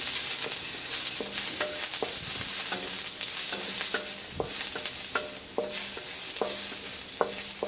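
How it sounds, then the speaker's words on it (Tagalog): Onions and garlic sauté in hot oil for a shrimp and vegetable stir fry, a steady close sizzle with regular spatula scrapes and taps against the pan, no voices. "gisa-gisahin lang natin ito para masigurado natin na luto siya"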